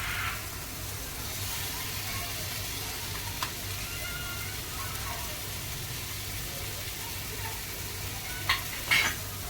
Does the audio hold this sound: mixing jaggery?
yes